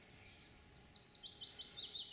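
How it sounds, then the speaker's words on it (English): Small birds chirp and twitter in quick, bright phrases by the River Swale, a steady run of calls rising and falling over a quiet background, with no clear pigeon cooing standing out. "The sound of birds and cooing pigeons."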